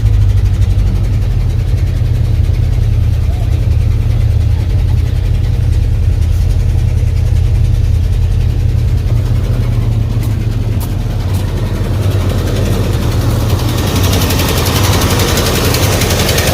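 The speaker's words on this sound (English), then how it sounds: "we need to bump that idle up a little bit" A 1984 Ford F-150 pickup engine idles steadily at close range, a loud, continuous low rumble with a slight uneven lope and brief hints of throttle late on, with no talk over it.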